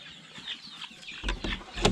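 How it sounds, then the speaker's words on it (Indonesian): Village chickens cluck softly nearby, a few short bursts rising toward the end over faint barn background noise. "ini ayam siap panen kita"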